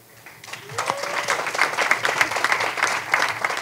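Applause at a live club concert in Bulgaria, a crowd clapping with distinct, quick hand-claps that build from a faint start into a steady, moderately loud patter, alongside a brief rising whistle and no speech.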